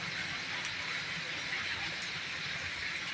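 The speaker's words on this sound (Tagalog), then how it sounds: "Malakas ang ulan kaya ngayon parang humina na konti." Rain falls steadily as a soft, even hiss with no breaks, fairly faint and without any talking.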